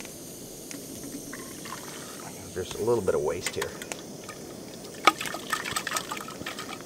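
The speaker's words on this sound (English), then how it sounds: "You can put boiling water in this, you can stick it in your sleeping bag." Boiling water gurgles as it is poured into a Nalgene bottle at a snowy winter campsite, a short trickling fill heard close up while someone talks over it.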